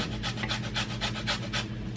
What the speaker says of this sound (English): I pretty much zested the whole lemon